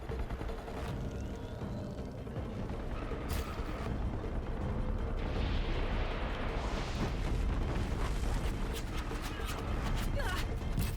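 Continuous heavy booming and rumbling from rapid cannon blasts in the video game Horizon Zero Dawn, dense and loud throughout, with sharp cracks scattered on top.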